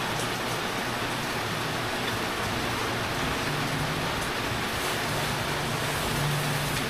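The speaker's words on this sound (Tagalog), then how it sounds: "Malakas po ang ulan." Heavy rain falls steadily at night on a campsite, a dense, continuous broadband roar of downpour with no voices and no break throughout.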